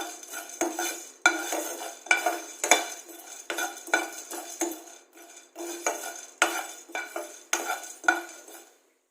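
Pepper, fennel seeds and cumin dry roasting in a pan while a metal spoon stirs them, giving a steady run of close scraping clinks and rattles against the pan without oil sizzle.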